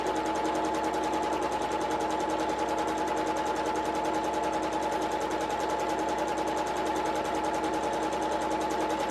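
A Janome MC1200 sewing machine stitches fabric at a short stitch length, giving a steady, close mechanical whir with rapid even needle clatter that runs unbroken throughout, with no voices.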